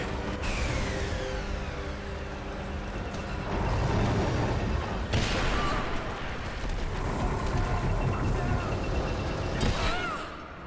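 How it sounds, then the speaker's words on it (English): A loud scripted explosion in Rise of the Tomb Raider erupts about five seconds in: a sharp blast over a rumbling game soundscape, followed by lingering debris and crackling. "That's a scripted explosion to send you to the right."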